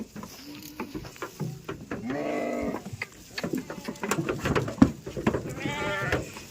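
Pregnant goats bleat in a few loud, wavering calls, one around the middle and another near the end, amid scattered thumps, handling noise and light background chatter.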